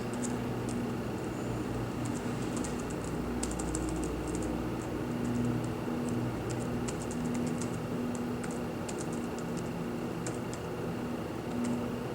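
An email address being typed on a computer keyboard, a quick irregular patter of light key clicks in short bursts over a steady background hum, close and fairly soft, with no talking.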